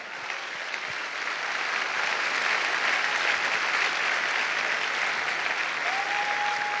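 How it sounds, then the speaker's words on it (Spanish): Congregation at a Sunday morning church service applauding, a dense, sustained roar of clapping that swells slightly and holds steady, with a faint tone rising briefly near the end. "denle un aplauso a Él"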